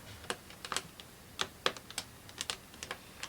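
Small parts from a book nook kit tick and crinkle as they are lined up, making a string of light, sharp clicks at an irregular pace, close and faint.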